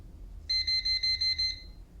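Klein Tools NCVT1P voltage tester beeping when held against a live cable: a rapid burst of about six high, clear electronic beeps lasting around a second, close and alone over quiet background.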